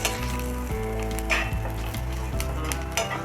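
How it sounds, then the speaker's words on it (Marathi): Coconut and masala dry-roast in a pan for egg curry, with a constant close sizzle and rhythmic scraping of a spatula stirring every half second or so, no voices. "चांगलं भाजून घेऊया सामान सगळं साहित्य सगळं सा भाजून घेऊ व्यवस्थित"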